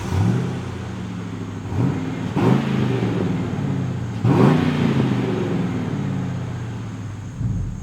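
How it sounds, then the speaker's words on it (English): A car engine with a stock exhaust idles low and steady, with a few sharp revs blipping up and falling back, fairly close and fairly quiet. "this is what the stock exhaust sounds like"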